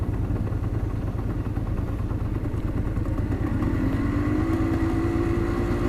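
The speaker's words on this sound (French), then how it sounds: "Là on fait marcher le frein moteur" A 125cc motorcycle engine drones steadily while engine braking downhill, its pitch rising into a whine near the end, with a constant low clatter throughout.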